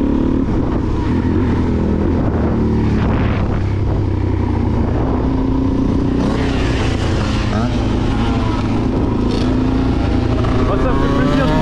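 A Suzuki DRZ 400 supermoto motorcycle ridden out with friends gives a constant engine drone with rising and falling revs and wind noise throughout, while someone talks over it.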